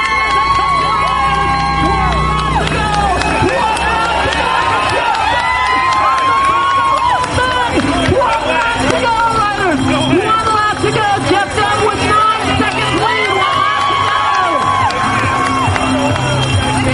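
A crowd at a Portland bike race cheers, whoops and claps steadily for the riders with laps to go, loud and continuous, with shouting voices throughout.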